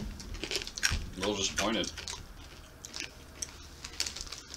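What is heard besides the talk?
crunching and chewing chili corn nuts from El Salvador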